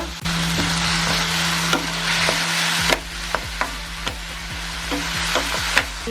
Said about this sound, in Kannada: ಈಗ ಈರುಳ್ಳಿ ರೋಸ್ಟ್ ಆಗಿದೆ ಈಗ ಇದಕ್ಕೆ ಮತ್ತೆ ಒಂದು two three spoons chilli paste ಹಾಕ್ಕೊಳ್ಳೋಣ